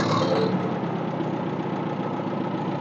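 An International 350 tractor's engine runs steadily with a little throttle, a close, rough, continuous mechanical rumble without any pauses.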